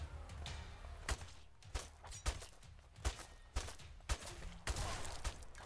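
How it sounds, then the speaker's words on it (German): Rapid sharp blasts and thuds from a video game, a series of explosive bangs and gunfire-like bursts in irregular rhythm, fairly quiet overall and without talk. "Was war denn das jetzt für eine Explosion?"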